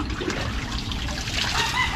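Water from a spring beside a rice field trickles and splashes steadily, a soft continuous flow heard close by with no voices.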